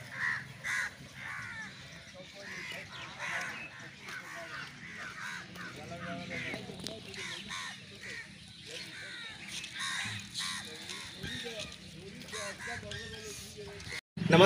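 Crows caw repeatedly in the courtyard of Baba Bhootnath ashram at Barwa Balesara, Gopalganj, with a busy mix of overlapping calls from several birds, moderately near, continuing throughout against outdoor background noise.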